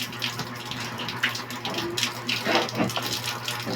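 Rainwater pours steadily from a house gutter downspout after a night of rain, a continuous close splashing gush with no pauses.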